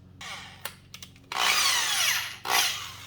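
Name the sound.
battery drill with stripping wheel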